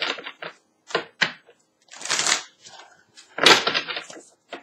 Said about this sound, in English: Allow me to shuffle.